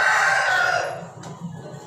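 An Aseel rooster crows loudly and close by, a drawn-out call that fades after about a second, followed by quieter background sounds.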